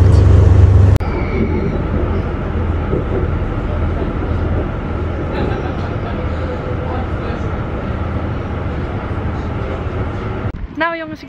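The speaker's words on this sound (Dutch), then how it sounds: "Ik zit in de laatste trein" A late-evening train ride in the Netherlands heading to Oldenzaal, with a steady rumbling carriage hum and rolling noise filling the cabin for several seconds, a sharp knock near the start and clicks at the end.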